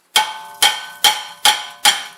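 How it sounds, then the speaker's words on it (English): Hammer striking a seized rear brake rotor on a 2004 Mazda 6, five loud ringing metallic clangs at a steady rhythm, each decaying quickly, close by with no talk. "we're going to have to use the hammer to"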